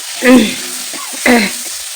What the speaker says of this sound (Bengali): আর সঙ্গে শুটকি মাছটাও দিয়ে দিব কড়াইয়ে কেমন দিয়ে আমি নেড়ে চেড়ে